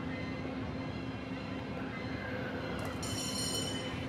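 A mine train roller coaster in the Planet Coaster video game rumbles along its track in a steady, distant, low roar, with a faint high metallic squeal late on.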